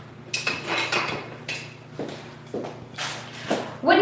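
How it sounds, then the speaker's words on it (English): Wooden spatula stirring concentrate into honey, producing soft irregular scraping and tapping strokes against the container, close and quiet. "I'm going to stick that right into my honey and stir it up"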